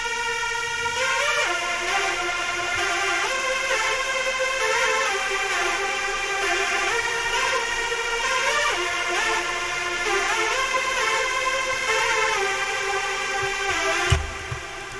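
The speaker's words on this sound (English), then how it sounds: "So the next melody is on Nexus, and it's called ZB Wow Drunk Lead 3 preset." Wobbly, pitch-bending synth lead from the Nexus ZB Wow Drunk Lead 3 preset plays a continuous melody with flanger effects throughout, steady and prominent, for a trap beat.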